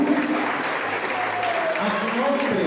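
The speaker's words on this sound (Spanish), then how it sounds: "que sea más fuerte ese aplauso para el Señor" A church congregation applauds for Jesus, a dense, steady wash of clapping that fills the whole stretch at even loudness, with faint voices mixed underneath.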